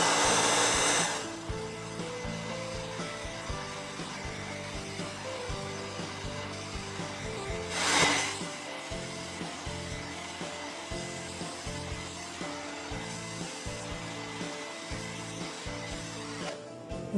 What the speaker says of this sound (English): we're going to take a standard hair dryer, and we're going to put it on high